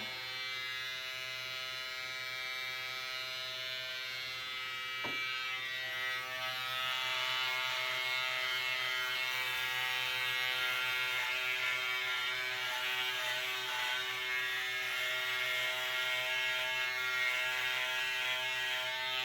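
Electric hair clippers buzz steadily at close range while cutting hair during a home haircut, with a brief click early on and the motor tone continuing unbroken.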